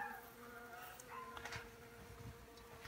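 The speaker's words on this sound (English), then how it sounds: "That's a real bee." Wild bees buzz around a rental house, a faint continuous droning hum with individual bees passing close now and then, no voices over it.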